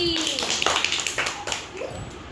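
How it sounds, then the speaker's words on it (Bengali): Sharp hand claps in a Rabindra Nritya dance class, several separate claps spaced about half a second apart over a loud, busy room, with a voice briefly audible. "হাততালি।"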